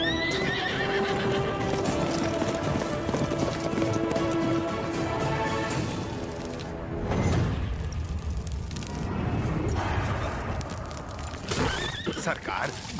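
Horse neighing loudly with hooves clopping, in a dramatic dubbed film scene set among thundering noise and bursts of impact sound, with voices underneath.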